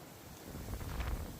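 Wind buffets the microphone with a low, gusty rumble that swells midway on a hike near Townsville or Cairns, Australia, no voices present.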